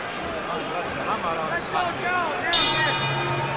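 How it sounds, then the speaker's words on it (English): A boxing ring bell clangs once, bright and close, before round 13 of a 15-round heavyweight title fight, rising above a steady crowd roar and a commentator's voice. "There's the bell."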